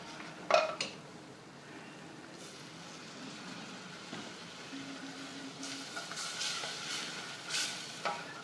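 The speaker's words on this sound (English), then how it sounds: "And keep stirring. You don't want it to burn or stick to the pan." Vegan cheese sauce being stirred in a pan, a sharp utensil knock at the start, then a low continuous sizzle with faint scraping and occasional clinks of the spoon against the pan.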